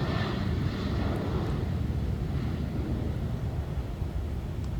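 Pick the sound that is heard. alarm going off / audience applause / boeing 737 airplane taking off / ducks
boeing 737 airplane taking off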